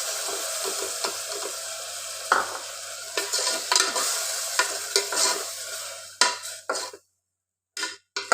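Ground masala paste stir-fried with softened tomato and onion for a vegetable pulao, a spatula scraping through a sizzling pan in repeated strokes, cutting to silence near the end before a brief return.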